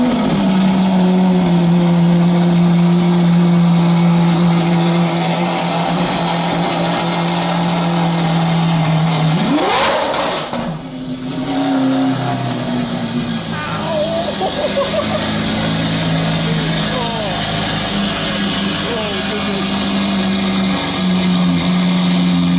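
A Lamborghini Aventador SV Mansory Carbonado engine runs loudly and steadily close by, then revs sharply about halfway through before dropping back to a rough, rumbling idle.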